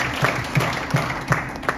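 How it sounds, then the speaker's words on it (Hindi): An audience at an event-management service presentation gives brief applause, a steady patter of many hands clapping at moderate loudness in an indoor hall. "सुधांशु के लिए तालियां।"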